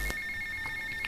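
A phone rings in GTA Vice City with a steady high-pitched electronic trill, moderately quiet, and short pulses repeat over about a second with no voices.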